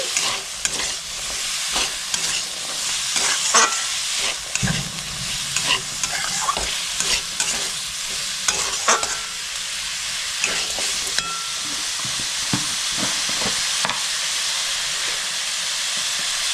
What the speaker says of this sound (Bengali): আর 1 বাটি বিনস, এটাও দিয়ে দিলাম। দিয়ে ভালো করে মিক্স করে নিচ্ছি।